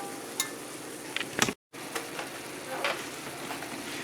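A leftovers breakfast scramble with a little tomato sauce warming in a pan, sizzling steadily and fairly quietly throughout, with a few faint stirring scrapes and a brief gap in the sound partway through.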